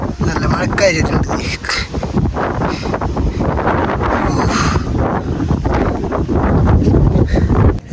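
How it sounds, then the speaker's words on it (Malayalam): Strong wind buffets the microphone on the Ramakkalmedu hilltop, a loud continuous rumbling roar with gusts throughout, and a person talks over it. "എൻ്റെ പൊന്നെ ഒടുക്കത്തെ കാറ്റാണ് ഇവിടെ."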